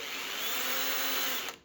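A power drill runs steadily on a Volkswagen Beetle with a hardened-steel bit, a continuous high whine that holds for over a second and then cuts off abruptly.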